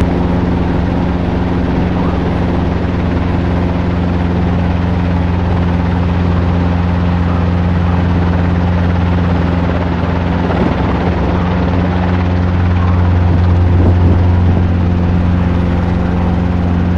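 A steady Robinson R22 helicopter engine drone with rotor thrum, loud and continuous throughout, swelling slightly near the end.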